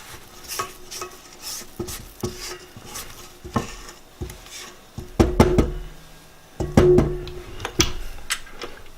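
A spatula scrapes the sides and bottom of a mixer bowl of cranberry lemon sandwich cookie dough, a run of close, uneven scraping strokes and knocks against the bowl with no talk.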